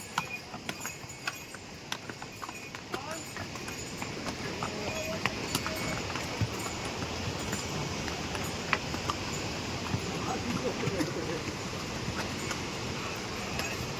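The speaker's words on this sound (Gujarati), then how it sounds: "મેક્સિમમ એ અમારા અને જે.કે. પટેલના ઘોડાને સાથે લઈને ચાલે છે." Hooves of horses clip-clopping steadily while the animals climb a mountain pilgrimage path, a busy continuous patter of steps close by with outdoor ambience and scattered sharper knocks.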